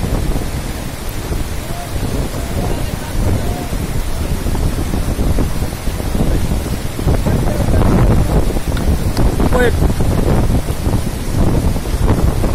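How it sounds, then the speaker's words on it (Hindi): A motorcycle churns through water amid heavy wind rumble and splashing, the engine and spray swelling louder toward the end, no clear talk. "अब ये दूसरी मोटरसाइकिल आ रही है जी।"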